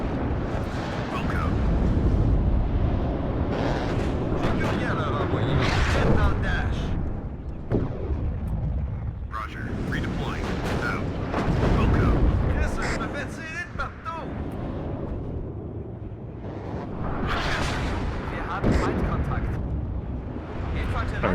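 Bombs explode on infantry in the video game WARNO, heavy booming blasts rolling one after another in surges, loud and close, with rumbling decay between the bursts.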